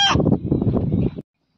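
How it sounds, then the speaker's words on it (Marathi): A rooster gives a single short, hoarse crow lasting about a second, loud and close, that stops abruptly and is followed by silence. "हा कोंबडा अण्णा या नावाने हाक मारतो आहे"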